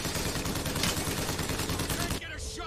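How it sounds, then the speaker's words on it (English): Enemies firing guns in Bioshock Infinite, loud sustained rapid gunfire with dense overlapping shots that drops off sharply near the end, leaving quieter background game sound. "they're right there shooting"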